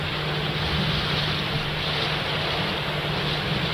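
Rain-swollen waterfall in monsoon Maharashtra, a constant loud broadband roar of rushing water with no break or change, and no voices.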